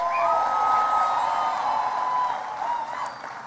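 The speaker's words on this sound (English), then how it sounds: "Give him a big round of applause" An audience applauds and cheers for Reverend Al Sharpton at a political gathering: a steady, dense wash of clapping with whoops rising above it, holding strong for about two seconds before easing slightly.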